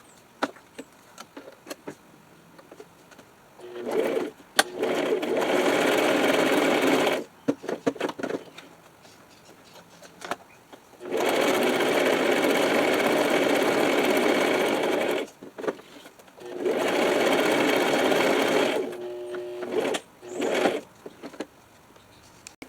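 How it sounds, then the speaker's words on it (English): A sewing machine stitches paper in three long bursts of rapid zigzag stitching, separated by quieter pauses with small clicks and handling noises. "So I'll take you over to my sewing machine now."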